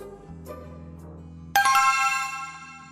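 Phone ringtone, a bright melodic chime that starts suddenly partway through after a quiet low tone, then rings loudly with sustained, slowly fading notes.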